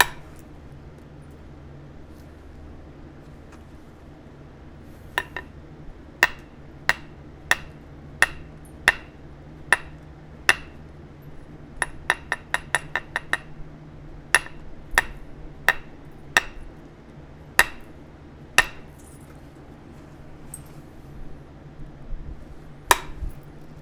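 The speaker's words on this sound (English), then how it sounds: "See, those flakes are shattering." Sharp cracks ring out as a mahogany obsidian knife is flintknapped and flakes shatter off the stone, a string of crisp glassy snaps in uneven bursts, some in rapid clusters, over a quiet background.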